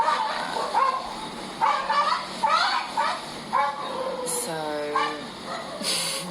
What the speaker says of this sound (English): hear the sounds of dogs